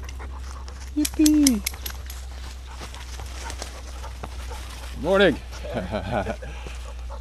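A dog pants and whimpers near the listener during an outdoor morning encounter, with people greeting and talking over it.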